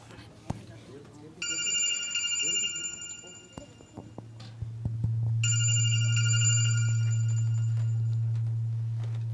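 A telephone rings indoors during a church youth anniversary skit in Kuwait, two separate bursts of trilling electronic bell tones, moderately loud, with a low steady hum underneath and people talking around it.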